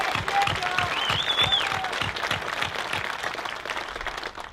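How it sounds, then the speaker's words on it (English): A crowd claps at a 2021 high school commencement honoring the graduating class, sustained applause at steady volume with a faint whistle or cheer near the start. "Please join me in a round of applause, absolutely honoring the hard work and achievements of the entire graduating class."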